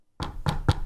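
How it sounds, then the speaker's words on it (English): Three firm knocks on a door ring out after a moment of silence, evenly spaced and close, with the last the loudest. "Is that you knocking on the door?"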